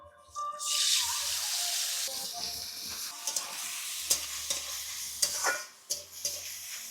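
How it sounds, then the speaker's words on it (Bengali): Hot mustard oil sizzles loudly in a wok as boiled banana flower is added, with a steady hiss broken by a few clanks of stirring. "কড়াইতে সর্ষের তেল দিলাম তেলটা গরম হতেই দিয়ে দিচ্ছি সিদ্ধ করা মোচা"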